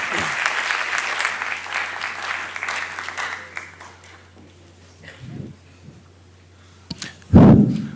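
Prolonged applause from an audience after an economics lecture on macroeconomic reforms, a dense steady clapping that gradually thins and fades, followed by a few scattered thumps and a loud close knock near the end.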